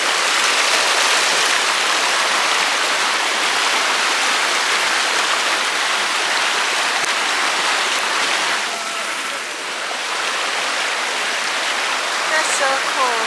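Stream water rushes over rocks near Luang Prabang, Laos, as a steady, loud hiss close by, with a person speaking briefly toward the end.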